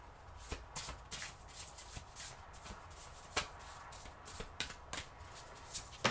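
Tarot cards are shuffled close by in a steady run of soft riffling and snapping flicks, with sharper slaps every half second or so and no voices over them.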